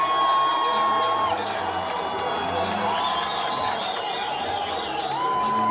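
A fight-night crowd cheers and whoops at a full-contact bout, a broad roar of many voices with a commentator talking over it.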